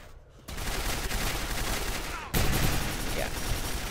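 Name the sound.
gunfire shooting turrets in video game Quake 4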